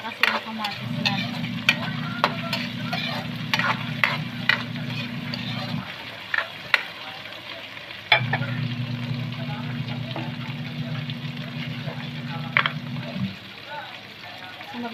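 Tomatoes and pork being stirred together in a frying pan for adobong sitaw, a steady sizzle with scraping stirs running in two long stretches and a short pause between, close and fairly loud.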